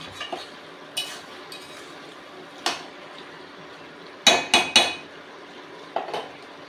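Dried fish and vegetable curry served onto a plate, heard as a few sharp clinks and scrapes of a spoon against a pot and plate, scattered and close, with a quick cluster of knocks near the end and no talk.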